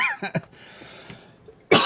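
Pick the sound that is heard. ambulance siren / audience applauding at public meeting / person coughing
person coughing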